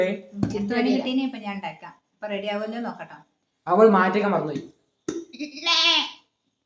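A person mimics a goat's bleat with a series of wavering, nasal cries, several loud bursts separated by short pauses.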